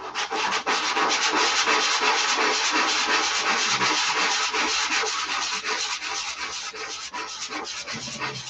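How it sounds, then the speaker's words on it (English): Wood being sanded by hand, a steady close rasping scrub in repeated strokes that holds loud for several seconds and then eases slightly toward the end, with no talking over it. "That'll tell you when to stop sanding."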